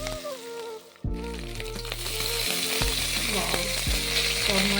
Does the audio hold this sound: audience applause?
no